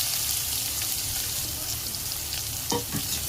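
Chopped onion frying in hot oil with mustard seeds and cumin, a steady close sizzle throughout with a few louder crackles and a stirring scrape near the end, no voices.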